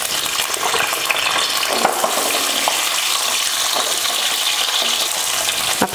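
Onions fry in hot oil with a dense, continuous crackling sizzle that stays loud and close throughout, with brief clinks of a utensil and no voices.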